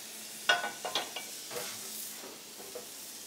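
Red wine goes into a hot pan to lift the fond after searing a beef tenderloin. A faint, brief sizzle sounds with several sharp clinks and pops near the start, then a soft fading hiss.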